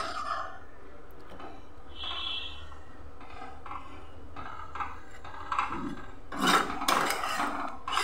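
Mung dal with sweet potato stirred in a pot on a gas stove, soft repeated scraping and rubbing strokes of a spoon against the pot, fairly quiet, growing louder and busier toward the end.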